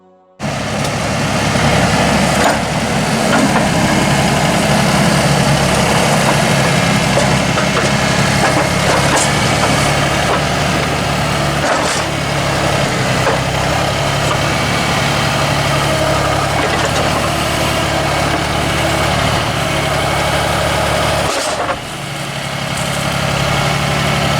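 A heavy tractor engine runs steadily and loudly for a long stretch, laboring with a low rumble while pulling large logs, with occasional creaks and knocks of wood.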